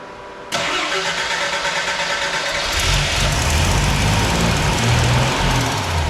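A Jeep CJ7 engine cranks loudly and continuously right after a new fuel pump was fitted, a steady churning starter sound that keeps going without catching.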